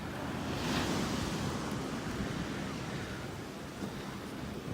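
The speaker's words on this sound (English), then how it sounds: "A few waves coming in today." Waves roll in on Grace Bay Beach in Providenciales, Turks and Caicos, a soft continuous wash of surf with a gentle swell early on and light wind rumbling on the microphone.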